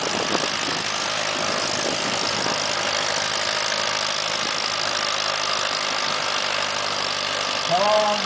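An antique Allis tractor runs smoothly and steadily at an antique tractor pull in Havana, Illinois, its engine a loud continuous drone with faint crowd noise around it.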